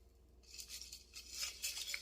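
Blue cotton candy syrup being stirred into an iced drink, giving faint, quiet clinks and swishes of ice against the glass with no voices.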